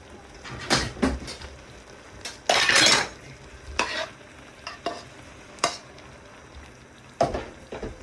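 Eelam-style dhonnai biryani being stirred in a pot, with rice and spices scraped and turned by a spoon in several separate scooping strokes and a brief louder clatter, close up and without talk.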